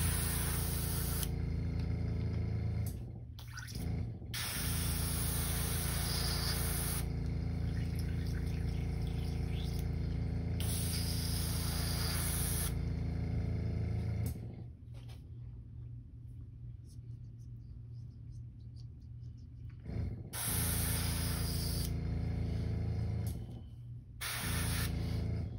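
An airbrush being cleaned out after painting a custom crankbait, giving a loud, steady hiss of spraying air broken by several short pauses, with one longer, quieter stretch partway through.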